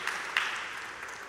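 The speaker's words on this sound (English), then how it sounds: "Give yourselves a round of applause for being present this morning." Congregation at a Sunday morning gathering applauding, a faint, soft wash of distant clapping with a couple of sharper claps early on, steady and low in level.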